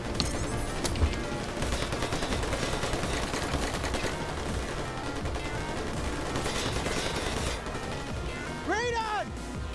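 Sustained gunfire and bursts of automatic weapons in a shootout from the video game New Tales from the Borderlands, loud and dense throughout, with occasional sharp impacts and shouted voices mixed in.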